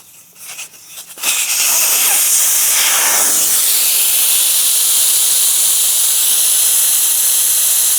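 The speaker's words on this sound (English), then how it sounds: "So first we, of course, gonna let the air out." Air hisses out of a Honda Gold Wing rear tire valve with the core removed, a few faint clicks giving way to a loud, steady, continuous hiss that runs on without a break.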